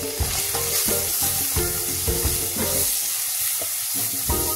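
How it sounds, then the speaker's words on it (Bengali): Marinated prawns are frying in hot oil with a close, steady sizzle. Repeated scraping stirs and knocks of a utensil against the pan punctuate it, and nobody speaks. "চিংড়ি মাছগুলো যেগুলো ম্যারিনেট করে রেখেছিলাম এখন আমি তেলের মধ্যে দিয়ে দেব।"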